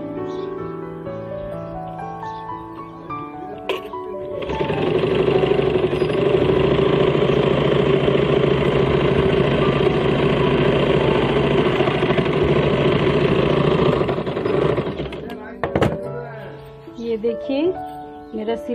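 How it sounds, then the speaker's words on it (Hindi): A steady mechanical whirring drone runs for about ten seconds, the hum of an electric sewing machine stitching, with talk before and after. "अब मैं आपको सिलाई करके दिखाती हूँ।"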